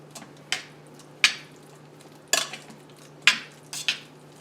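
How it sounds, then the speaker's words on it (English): Bucatini pasta being stirred with walnut pesto in a bowl, heard as a handful of sharp, separate utensil clinks and scrapes against the dish, spaced irregularly over a quiet background with a faint steady hum. "In here with the pasta. Mix well."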